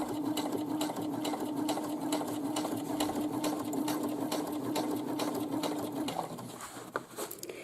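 A sewing machine runs in one steady, continuous stitching burst while sewing along the side edge of a drawstring bag. The hum is close and constant, then stops near the end, leaving quieter handling noise.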